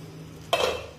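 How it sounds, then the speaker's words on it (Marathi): A metal lid is lifted off a kadhai of simmering green-pea usal, giving one sharp metallic clank with a brief ringing tail against a quiet kitchen background. "कढईवरचं झाकण काढूया"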